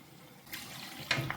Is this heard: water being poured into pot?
yes